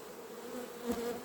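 Honey bees buzz close at an open hive being readied for cold weather, a dense steady hum with one bee swelling louder for a moment.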